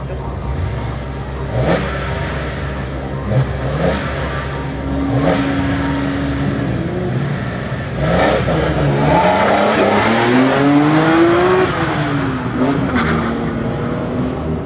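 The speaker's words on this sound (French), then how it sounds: "Départ Christian Parisson et sa BMW Z" BMW Z sports car launching at the start of a historic hill climb, its engine revving up through rising gear pulls, loud and close, with an announcer speaking over it.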